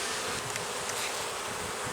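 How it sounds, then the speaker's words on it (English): Honey bees buzz steadily around an open hive during a close inspection, a dense, continuous hum with no voices. "couple of bees started to come up at my hand"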